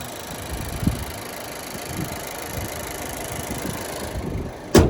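A 2018 Toyota C-HR engine idles steadily nearby with a low, even hum, a brief clunk early on and a louder knock at the end.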